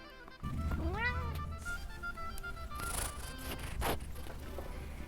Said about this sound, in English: I'm going to narrate this video with my cat.